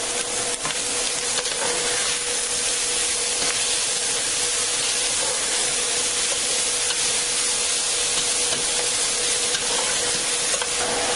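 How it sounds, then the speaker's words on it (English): Diced onion sizzles in a pan with beef juices left from browning meat, a loud, steady hiss and crackle close up, unbroken, with faint stirring scrapes underneath. "throw in 1 medium diced onion and cook that through for just a little bit"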